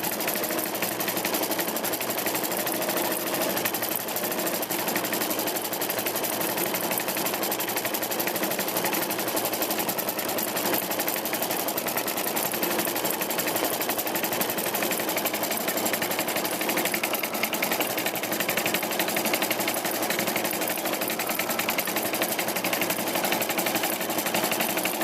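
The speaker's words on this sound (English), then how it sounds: "Here is a glimpse of some of the embroidery going on with this Crazy Quilt block. It's stitching out the strawberry stems." An embroidery machine stitches strawberry stems on a crazy quilt block, a continuous rapid needle chatter that runs steadily and evenly throughout with no talking.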